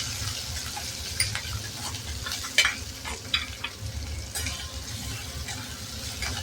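Onion sautés in an oiled pan for vegetable upma, giving a steady close sizzle with a low rumble underneath and scattered sharp clicks of a spatula stirring.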